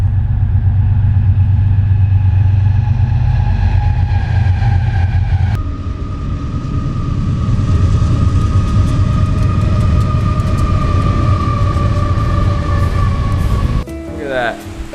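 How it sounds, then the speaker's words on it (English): A train rumbles past a roadside camp at night, with a steady low engine drone and humming tones that hold throughout, close and loud, ending with a sharper clatter near the end. "Trains have been going by all night."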